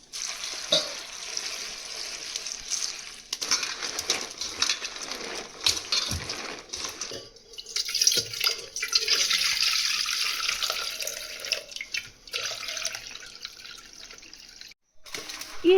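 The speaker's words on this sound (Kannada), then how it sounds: "ಇದನ್ನು ಫಸ್ಟ್ ಈಗ ನೋಡಿ ಒಂದು ಪಾತ್ರೆಗೆ ಹಾಕ್ಬಿಟ್ಟು ಚೆನ್ನಾಗಿ ತೊಳ್ಕೊಳ್ಬೇಕಾಗತ್ತೆ." Gokarna chillies, about two kilograms, are washed by hand in water in a vessel, giving close splashing, sloshing and dripping with clinks against the pot that come and go over a long stretch.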